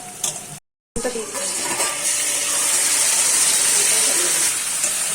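Chicken pieces go into a pan of frying potatoes, and after a brief silent gap a loud, steady sizzle swells up close and continues unbroken.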